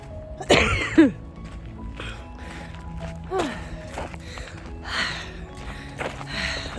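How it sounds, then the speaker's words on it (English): A person coughs a few times, harsh bursts close by, during an outdoor nature walk in Van Cortlandt park, with footsteps and outdoor background between the coughs. "That was a good cough."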